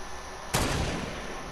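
A single sharp sniper shot in Fortnite, a loud sudden crack with a broadband burst that decays over about a second, standing alone against a steady background hiss.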